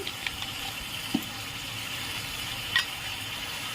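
Soybean curry sizzles steadily in a pan with chilli, turmeric and coriander powder, a continuous soft frying hiss broken by a few faint stirring clicks, with no talk.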